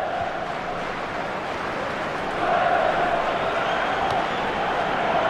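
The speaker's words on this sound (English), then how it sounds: "Crowd urging Holland forward." A stadium crowd in the FIFA 14 World Cup quarter-final between the Netherlands and Costa Rica, set in the Maracanã, roars and cheers steadily, swelling louder partway through.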